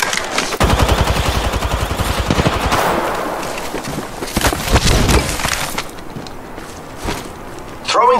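Rapid video-game gunfire rattles loudly through the first half, machine-gun bursts and single shots with sharp crashes, easing into quieter scattered shots and clatter toward the end during an online match.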